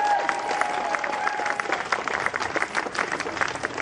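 A rally crowd at a Save the NHS event in Darlington bursts into steady, dense applause with scattered cheers and whistles, the clapping sustained and fairly close throughout.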